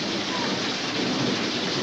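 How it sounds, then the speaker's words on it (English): A thunderstorm brings heavy, steady rain that hisses loudly and evenly, with a low rumble underneath. Nobody speaks. "You think the storm is over? A lot of noise."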